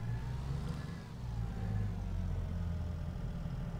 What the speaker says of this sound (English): we shall get in the big tractor